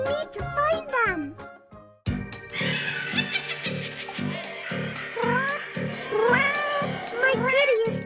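A cartoon cat meows in a Halloween kids' story, with several rising and falling meows at the start, then a voice talking over jingly background music.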